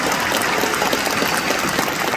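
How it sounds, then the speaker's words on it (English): Parents clap for a graduation, a steady wash of many hands at close range filling the whole moment without voices on top. "parents are going to clap for that"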